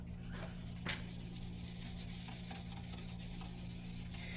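Tail light lens being scuff-sanded with 600-grit sandpaper, a quiet, close rubbing rasp with one brief sharper scrape, repeating softly under a steady background hum.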